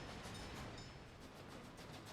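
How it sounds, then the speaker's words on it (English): A construction train in the Workers & Resources game moving along a railway in a 1900-era setting, a faint steady rumble with rhythmic clicking of wheels on track, no talk. "There's a construction train working its way up through there."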